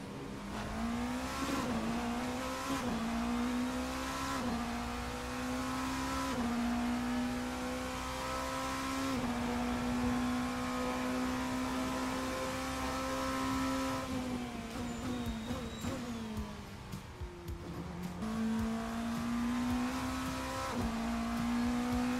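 A race car engine in the Assetto Corsa sim racing game, a loud, close, sustained drone that climbs and drops in pitch through gear changes over about twenty seconds, with no voices.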